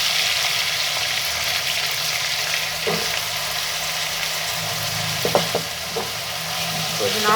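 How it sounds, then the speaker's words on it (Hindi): Three potatoes fry in hot oil in a pan with a constant loud sizzle, broken by a few utensil clicks as they are stirred, and no one speaks. "अब ये जो है 3 अदद आलू जो हैं वो भी मैं इसमें डाल के फ्राई करने लगी हूँ"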